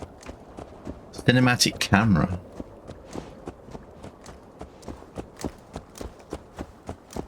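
Horse hooves clip-clop at a steady pace along a road in Assassin's Creed Valhalla, a regular rhythm of moderately loud hoofbeats that continues after a short burst of speech near the start.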